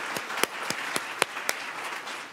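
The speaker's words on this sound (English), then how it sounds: "So I'm going to ask you to clap with me for that." An audience at a women-on-boards event gives a short round of applause, a few distinct, fairly faint claps spaced through the room rather than a full ovation.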